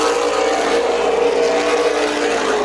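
Super Late Model race cars pack into a corner at Tucson Speedway, engines droning loud and steady in a dense, continuous roar with no clear gaps.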